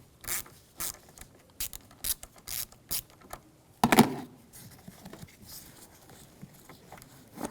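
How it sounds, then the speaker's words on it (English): A ratchet with a 10mm socket loosens the negative terminal on a Volkswagen Jetta car battery, giving a series of short, close mechanical clicking bursts at irregular intervals with brief pauses between them. "We're going to use a 10mm socket."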